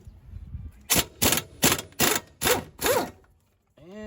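Impact gun loosening the top bolt of an Audi front brake caliper: six loud, evenly spaced rattling bursts close up, followed by a short whirring spin.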